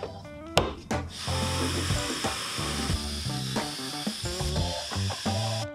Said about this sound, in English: I started drilling some pocket holes.